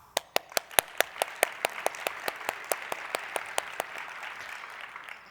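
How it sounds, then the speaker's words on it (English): A single pair of hands clapping in a steady even rhythm, about twenty crisp close claps that soften and thin out toward the end, no other voices. "We owe you our gratitude and our applause."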